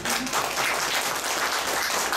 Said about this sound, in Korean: 한 번더 박수 드리겠니다